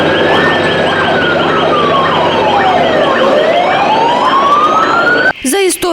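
A fire engine siren wails loudly and close as it arrives at a burning medical university dormitory in Chernivtsi, rising and falling continuously before cutting off near the end.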